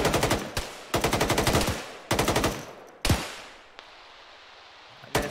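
Automatic weapon fire in a military shooter game rips out in four loud, close bursts of rapid shots, separated by short gaps, the last trailing into a quiet pause before a single sharp report.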